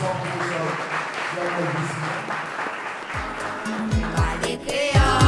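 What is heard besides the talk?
audience applause at a conference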